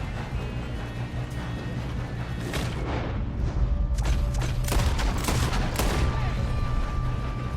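Gunfire in the video game Red Dead Redemption 2 during a train robbery cracks out in a rapid mix of close shots and bursts over the rumble of the moving train, with brief shouted voices in between.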